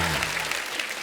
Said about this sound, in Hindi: अभिमन्यु जी के लिए जोरदार ताली